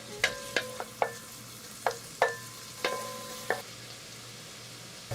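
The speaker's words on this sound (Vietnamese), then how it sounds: "Bơ tan thì mình cho tiếp hành tỏi vào, phi lên cho thơm." Garlic and shallots fry in melted butter in a pot, a soft steady sizzle punctuated by sharp clinks of a utensil stirring against the metal, fairly close and without talk.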